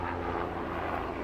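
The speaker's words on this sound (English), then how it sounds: "Oh, that's a helicopter." A steady helicopter drone fills the air, a continuous rotor-like roar passing overhead at moderate loudness with no other sounds.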